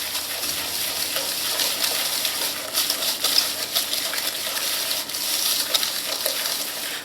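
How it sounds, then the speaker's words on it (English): Pecan pie filling with sugar being stirred by hand in a bowl, a steady wet swishing and scraping that runs continuously at moderate loudness without talk. "So we're gonna mix all that together so it's nice and smooth."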